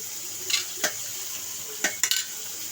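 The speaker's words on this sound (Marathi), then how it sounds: "आता फ्राय करायला टाकूया सोडून झालेले आहेत फ्राय करायला ठेवलेले आहेत मांदेली" Floured mandeli fish frying in a pan, with a steady hiss of hot oil and a few sharp clinks and scrapes of a utensil against the pan at close range.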